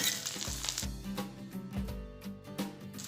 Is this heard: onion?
yes